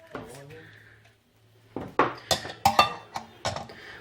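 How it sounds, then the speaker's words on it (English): Pans and cutlery clatter in a home kitchen where eggs and bacon are being cooked, with a run of sharp metallic knocks and clinks bunched in the second half, close by. "I'm cooking Siaosi some eggs and bacon."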